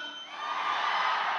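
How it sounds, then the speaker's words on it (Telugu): A theatre crowd at a Telugu film event for Mass Jathara shouts and cheers in one continuous, loud, dense roar that swells slightly toward the end. "థియేటర్లో ఈ అరుపుల కోసం వెయిటింగ్"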